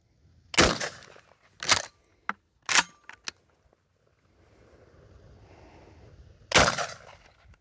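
Shotgun blasts from a Mossberg 590 or Remington 870 firing birdshot and buckshot outdoors, five loud sharp reports at irregular intervals with a few smaller clicks, wind noise between shots.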